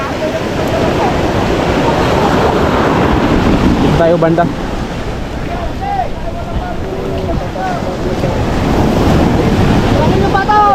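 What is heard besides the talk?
strong ocean waves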